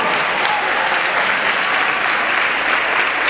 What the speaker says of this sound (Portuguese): E dê uma salva de palmas a você que é um super-herói.